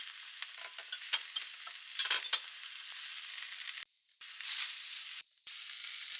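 Mixed vegetables sizzling in a frying pan for a quick boxed lunch, a steady bright hiss with brief crackles and short breaks as the pieces are turned, close and moderately loud with no talking.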